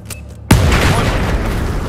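A sudden, loud grenade explosion in the video game Battlefield 4 bursts in after a brief quiet lead-in, followed by a sustained rumbling roar and debris-like crackle that fills the rest.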